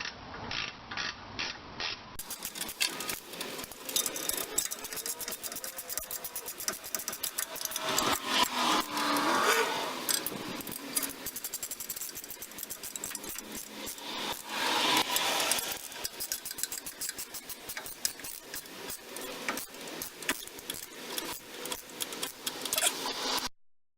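A ratchet wrench tightens 3/4-inch nuts on hydraulic brake lines during an early Ford brake restoration, with rapid mechanical clicking in repeated bursts. It sounds close and continuous, with no talking.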